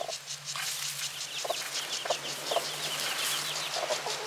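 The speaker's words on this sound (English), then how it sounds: "Little chicken is coming over here and fighting with Ruby." Chickens squabbling close by, short clucks and squawks coming in irregular bursts over a faint steady hum.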